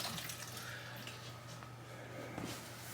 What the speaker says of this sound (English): I just want to fill the water bowl, her water jug up